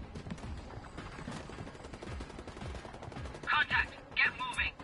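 Gunfire from Ghost Recon Wildlands: two short bursts of shots near the end, preceded by muffled game ambience and low rumbling activity.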